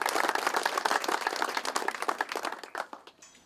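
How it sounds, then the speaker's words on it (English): An audience at an amateur golf tournament trophy presentation applauds with crisp, close claps that start thick and lively, then thin to a few scattered claps before dying away. "Having a big round of applause for Bunk."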